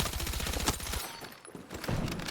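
KORD-6P67 rifle fired in short bursts in Battlefield 6, a rapid rattling volley of close, loud shots that cuts off, leaves a brief pause, then resumes with another burst.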